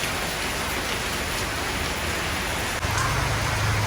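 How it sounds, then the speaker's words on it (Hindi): Heavy rain falling in Thailand makes a steady, dense hiss of drops hitting surfaces, swelling slightly louder and fuller near the end, with no one speaking. "मगर बारिश हो रहा है।"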